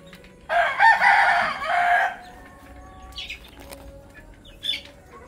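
Gamefowl roosters of roundhead, sweater and gilmore breeding lines crow in a loud, close burst lasting about a second and a half, followed by fainter clucks and distant crowing from other birds in the background.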